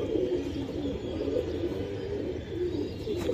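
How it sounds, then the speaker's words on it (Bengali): Pigeons cooing steadily at a pigeon market where breeds such as Pakistani teddy, Saharanpuri, Budapest and Damascene birds are sold. Several birds make low, throaty rolling coos close by, continuous throughout, with faint market background. "এই যে দেন কবুতর"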